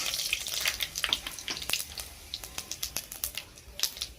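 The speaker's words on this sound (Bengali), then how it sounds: "ওই গরম তেলেই আমি এবার দিয়ে দেবো কালো জিরা ফোড়ন আর অল্প পরিমাণ 5 ফোড়ন।" Black cumin and panch phoron seeds sizzle and crackle in hot oil, with sharp pops and spits over a steady hiss, fairly close and quiet, with no voices.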